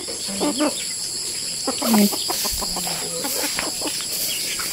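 Chickens on a farm in Palawan, Philippines, cluck and chatter in short bursts at feeding time, with a rooster-like call among them, over steady outdoor background noise and a constant high insect-like hum.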